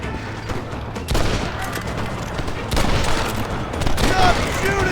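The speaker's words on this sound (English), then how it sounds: "Stop shooting at me!" Rapid gunfire in the video game Red Dead Redemption, with dense volleys of shots running throughout under and between raised voices.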